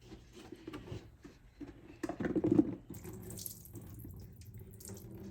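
Liquid drains from a jar of mixed vegetable pickle in a close, brief trickling pour that swells for a moment, then fades to a quieter, wetter murmur.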